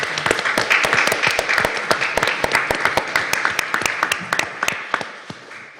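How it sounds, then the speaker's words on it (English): A round of applause fills a board meeting room, many hands clapping steadily and loudly for nearly six seconds before thinning out at the end. "a round of applause."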